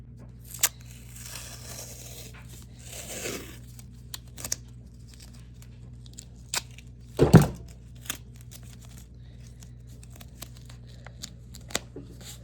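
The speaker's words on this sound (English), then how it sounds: "Scissors." Scissors snip through paper while crafting a homemade 3D paper Squishmallow, giving a few scattered, crisp cuts over a quiet room with one louder snip in the middle.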